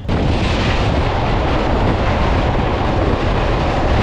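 A train pulling in on a single-line railway, a loud, dense, continuous rumble close by that holds steady throughout with no voices.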